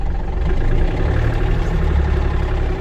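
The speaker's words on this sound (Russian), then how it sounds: "здесь мы с вами можем услышать работу двигателя" A low, steady engine rumble of a Yanmar AF230 tractor drones continuously, muffled from inside its glass cab, with no voices.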